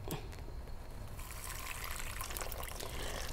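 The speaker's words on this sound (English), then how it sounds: "Now you take your water and you pour into your Ziploc bag." Water is poured from close by into a Ziploc bag holding brine spices such as bay leaf, peppercorns and coriander, a steady splashing trickle that grows fuller and louder as the bag fills.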